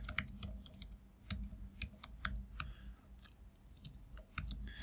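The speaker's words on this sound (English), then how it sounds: "I'm going to type out selected chord" Code is typed on a computer keyboard in quick, uneven bursts of crisp key clicks, close and fairly quiet, with short pauses between runs.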